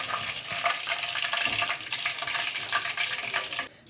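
Chicken pieces, about 800 g, fry in a generous amount of oil in a kadai for chilli chicken, giving a loud, steady, close crackling sizzle that runs without a break until it drops away at the very end.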